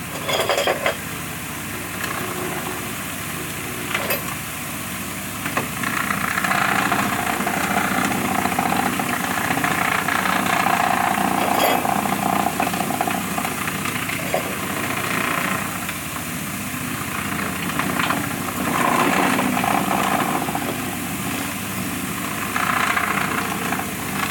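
A Harbor Freight Chicago Electric 96923 vibratory bowl tumbler runs steadily with a continuous mechanical hum and rattle of parts churning inside, a constant loud drone with occasional clinks, with no talk over it.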